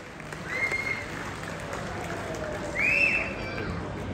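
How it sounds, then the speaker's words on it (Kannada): Crowd applause at an outdoor Karnataka Congress political rally, a moderate, continuous patter of many hands with a couple of brief high whistles or shouts rising above it. "ಜೋರಾದ ಚಪ್ಪಾಳೆಯೊಂದಿಗೆ"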